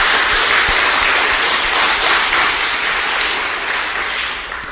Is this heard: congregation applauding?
yes